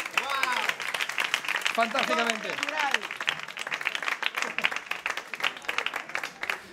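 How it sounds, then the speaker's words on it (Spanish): Applause for audience volunteers coming on stage at a live Catalan talk show taping, scattered clapping from the crowd running throughout, with voices talking and exclaiming over it. "Un aplauso para los espontáneos que vienen aquí."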